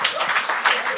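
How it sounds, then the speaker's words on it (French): A comedy show audience applauds in a short, dense burst of clapping, loud and close, with no break. "Il y a trop d'applaudissements, ça me touche"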